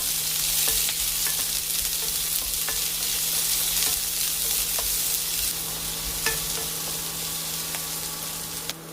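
Sliced onions and green chillies fry over medium flame in a pan, a steady broadband sizzle with occasional soft stirring clicks, close and continuous for the whole stretch, with no voices.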